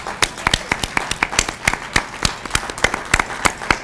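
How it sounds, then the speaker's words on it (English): An audience at a Divine Mercy healthcare conference claps, with sharp, distinct hand claps in a loose, fairly quick rhythm that sounds like a modest crowd applauding at close range. "Applause."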